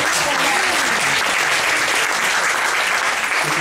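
Warm audience applause at an anniversary presentation for a French disability organisation, a loud, sustained rush of clapping from a large crowd, with a voice briefly audible early on.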